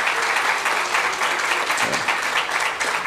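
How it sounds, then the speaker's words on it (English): Conference audience applauding the committee chair during closing remarks, a steady, full round of clapping from many people in a hall, even and sustained at moderate loudness, with faint voices mixed in. "I think Becky deserves a round of applause"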